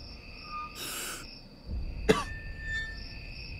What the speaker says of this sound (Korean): 사람 기침을 좀 할 수도 있지.